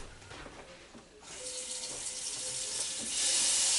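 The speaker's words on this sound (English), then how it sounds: "put a tiny bit of water in here." Water runs from a kitchen tap into a frying pan, starting as a soft trickle, then a steady hiss that grows louder and brighter toward the end, with no speech.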